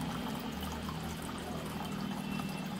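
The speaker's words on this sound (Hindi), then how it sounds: "देखिए वाटरफॉल" A small waterfall in a balcony garden gives a soft, steady trickle of water with a low, constant hum beneath it.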